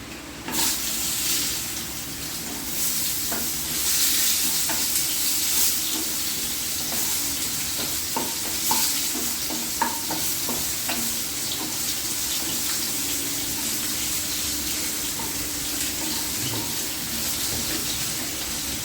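Cut potato and pointed gourd fry in a pan, a steady watery hiss with scattered small pops and crackles, continuous and moderately close.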